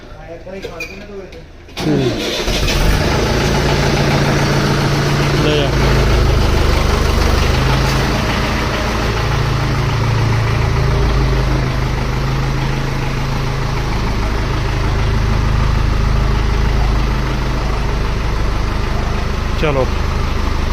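A tractor engine cranks and fires, then settles into a loud, steady idle with a low throbbing rumble that continues throughout, while someone talks nearby.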